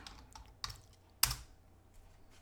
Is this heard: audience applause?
no